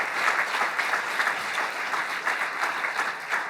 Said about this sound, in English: A big round of applause for all the ignites that are going to happen